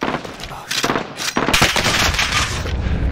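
Rapid automatic gunfire rattles through a Call of Duty: Modern Warfare match, dense bursts of shots stacking up loud and close with more distant reports, and voices in the background.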